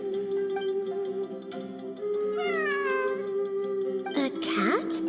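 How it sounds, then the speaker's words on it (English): A cat in Genshin Impact gives a couple of drawn-out, rising meows over steady background game music. "It really is a cat."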